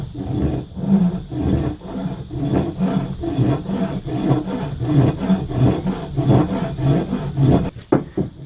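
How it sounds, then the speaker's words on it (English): A hand file strokes back and forth across a metal part being filed down, a steady rasping rhythm of about a dozen close, even strokes, ending with a couple of sharp knocks. "So I have a file."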